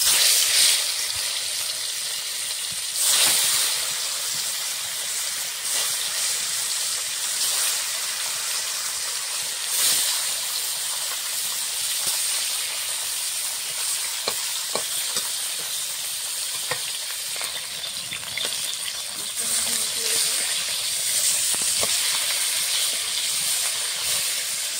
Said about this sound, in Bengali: তেলটা গরম হয়ে গেছে মাছ ভাজার জন্য। এখন মাছগুলো ভেজে নেব।